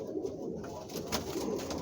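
Domestic pigeons in a loft, including Blondinettes and Aspars, cooing and squabbling over nests, soft close coos overlapping with rustling.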